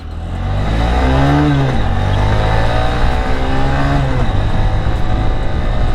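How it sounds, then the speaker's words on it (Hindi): A 2025 Honda Shine 125 BS7 motorcycle engine starts off and revs up loudly close by, pitch rising and falling through gear changes as it accelerates away, no talking. "सबसे पहले बाइक को लॉन्च करते हैं"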